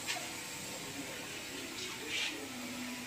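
Water pours and splashes into a new JK Ranger tyre of size 215/75 R15 during a tyre change, a steady wash of running water with a brief louder gush near the end.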